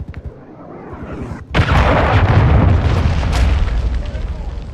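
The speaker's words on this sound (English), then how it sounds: "Hostiles launched a cruise missile." A cruise missile strike in a team deathmatch shooter game hits with a sudden heavy blast, then a loud, rumbling roar of debris and fire that lingers at full strength.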